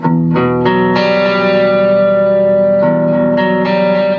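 A heavily distorted electric guitar plays chunky bar chords from a riff, downpicked on the low strings and upstroked on the G, each strum ringing out loud and sustained, with a brief change partway through.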